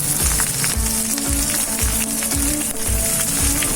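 Ginger sizzles and fries in hot oil with red chili, curry leaves and green chili for an Indian rice noodle dish, a steady loud crackle with repeated low stirring scrapes in a regular rhythm.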